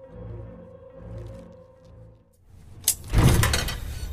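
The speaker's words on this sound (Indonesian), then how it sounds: "pintu lemari mayat Hannah terbuka dengan sendirinya" In a horror film, a wardrobe door swings open by itself: a low, eerie droning score fades to near silence, then a sudden loud burst of door noise rings out and lingers close by.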